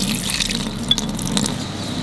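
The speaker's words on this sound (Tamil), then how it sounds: "கொஞ்சமாக நம்ம வந்து தண்ணி ஊற்றிக்கலாம்." Water runs from a vessel into a quail fry masala mixture being prepared over a rocket stove, a close, continuous trickling splash with a few brief drips and no talking.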